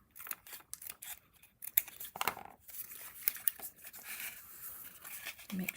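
Scissors snip through paper for bunny boxes, making a string of close, crisp cuts with light paper rustles, moderately quiet with no talking.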